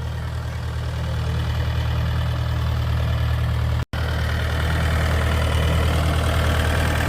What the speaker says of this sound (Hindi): ये गाजर पटाई वाली मशीन है।